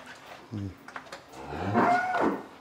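A dairy cow on a farm moos, first a short low call and then a longer, louder drawn-out moo, close by with faint background sound.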